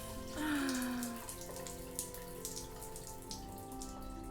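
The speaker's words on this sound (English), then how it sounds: "The hot shower feels nice" Hot shower water running steadily in a video game bathroom, a soft continuous hiss and patter with faint droplet clicks, fairly quiet and alone, with a brief tonal swell near the start.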